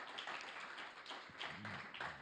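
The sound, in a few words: audience applause in church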